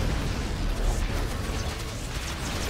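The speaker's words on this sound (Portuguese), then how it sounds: "Eu soltei uma bombinha atômica." A nuclear bomb detonates in a StarCraft 2 co-op match as Terran Mengsk, a broad sustained rumbling roar of explosion noise filling the clip without a sharp onset.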